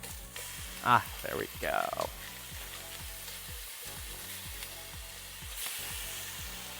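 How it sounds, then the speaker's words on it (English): Swordfish steak sizzles in olive oil in a hot pan just after being flipped, a continuous crackling fry with a few louder spatters while a voice speaks briefly over it. "so we're ready to flip our swordfish"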